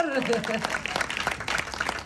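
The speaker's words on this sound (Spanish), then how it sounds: "Aplausos, por favor." Brief applause from an audience at a televised cast appearance, scattered claps rising under a voice that talks over the start, then continuing as a thinner patter.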